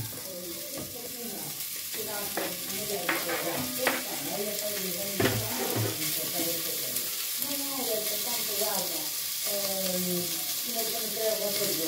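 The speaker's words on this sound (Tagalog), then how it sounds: "So, ilalagay na natin yung ating sausage, guys." Sausage frying in a dry pan with no oil, cooked for a creamy pasta with green peas, gives a steady close sizzle with occasional stirring scrapes and light clatter throughout.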